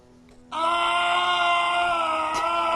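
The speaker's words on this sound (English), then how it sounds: "these screams are just funny" A character in the Back to the Future video game lets out a long, loud, drawn-out scream that starts abruptly and holds steady, with faint background tones beneath it.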